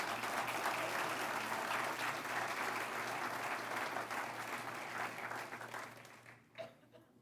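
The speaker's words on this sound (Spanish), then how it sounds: "Dale un aplauso al Señor, por favor." A church congregation claps together in sustained, dense applause that stays steady for several seconds, then thins and fades out near the end.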